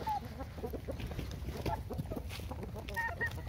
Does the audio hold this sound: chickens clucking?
yes